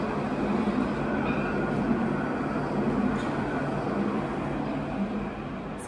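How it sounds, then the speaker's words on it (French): A tram passes along a city street, a loud continuous rumbling roar close by that holds steady throughout with no voices over it. "Maintenant il y a le tram."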